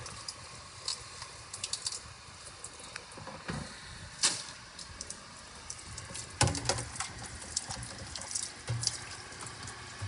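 Tap water runs steadily at a sink while cooking utensils are washed, with scattered clinks and knocks of pots and spoons over the faint, continuous stream.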